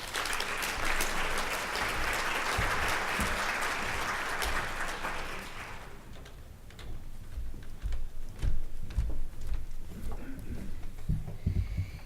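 An audience at a 2017 QSEN patient safety conference applauds steadily for about six seconds, then the clapping gives way to scattered taps and room noise as the welcomed speaker approaches.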